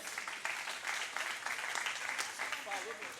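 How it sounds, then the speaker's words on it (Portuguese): Audience applause at an evening church youth gathering, a steady dense wash of clapping filling the room for about three seconds with a voice faintly over it near the end. "Um aplaude os dois aí, ó."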